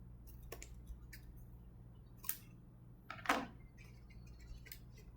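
A single crisp snip of scissors trimming a protruding piece off a plastic model kit part for an AXM Starship S24 lower flap, close and quiet, with a few faint clicks and handling taps around it over a low steady hum.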